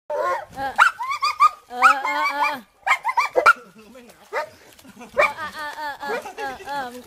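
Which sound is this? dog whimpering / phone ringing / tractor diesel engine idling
dog whimpering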